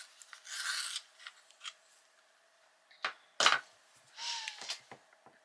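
A yellow chartreuse colouring pencil is sharpened in quiet, short scraping bursts, a few rasping turns near the start and again later, faint and close with gaps between.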